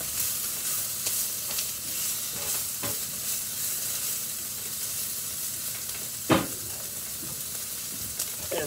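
Brussels sprouts sizzle steadily in a frying pan with lime juice, a constant close hiss broken by a few stirring scrapes and one sharp clatter.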